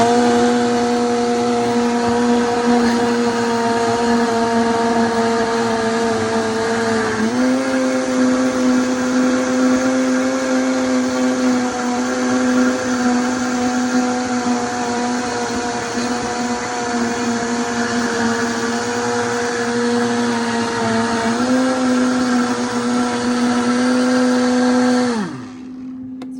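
A Vitamix blender whirs loudly and steadily through a green smoothie, its motor pitch stepping up twice before it winds down and stops near the end.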